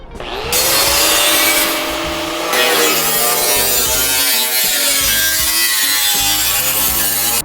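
A power tool cuts through sheet metal for a C10 wheel tub installation, a loud, continuous harsh whine and grinding rasp that rises in pitch and holds steady close by.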